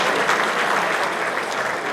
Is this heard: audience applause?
yes